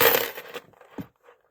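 A bunch of keys shaken close up, a bright metallic jingle that rattles loudly at first and then fades into a few scattered clinks, with no voices.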